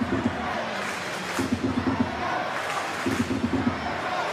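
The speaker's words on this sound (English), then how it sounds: "here you can hear the crowd immediately as soon as the Mariners get on the front foot." Football stadium crowd at an A-League match between Central Coast Mariners and Brisbane Roar, a steady loud roar swelling as a corner is taken, with rhythmic chanting or horn-like tones recurring in bursts throughout.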